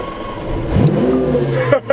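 A cold Lamborghini Centenario engine blips upward in a loud, close rev. The pitch climbs sharply, holds briefly, then cuts off.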